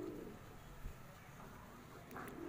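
Fancy pigeons cooing inside a net enclosure, a soft low murmur running throughout alongside faint background noise and a brief higher chirp near the end.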